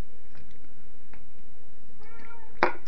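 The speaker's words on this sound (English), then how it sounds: "there's my cat looking for attention" A house cat meows for attention, with a few soft faint calls early on and then a clearer drawn-out meow near the end, close and alone in a quiet room.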